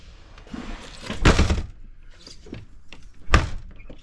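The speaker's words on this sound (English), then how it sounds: "I'm going to close my door" An RV entry door on a 2025 Jayco Jayfeather 21MML travel trailer swings shut with a solid thunk, followed by a second sharp latch knock a couple of seconds later, close and clear with light handling noise around it.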